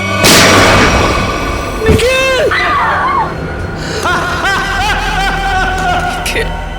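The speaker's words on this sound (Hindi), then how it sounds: "गोली चलाइए सर" A single loud gunshot bang rings out at the start of a CID TV episode scene, followed by people talking and an agitated voice rising over a low rumbling background.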